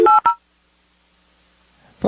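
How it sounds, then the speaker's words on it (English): A few quick telephone keypad tones sound up close as a number is redialed to rejoin a court conference call. A short quiet follows, then a faint line noise rises at the end. "we're dialing back in"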